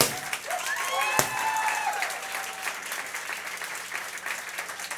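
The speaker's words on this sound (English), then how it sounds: "If we could give her one more round of applause," Applause from an audience at a company all-hands meeting for a young singer, a sustained round of clapping at moderate volume with a brief voice near the start, tapering slightly toward the end.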